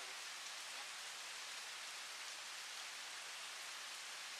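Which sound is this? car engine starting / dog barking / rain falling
rain falling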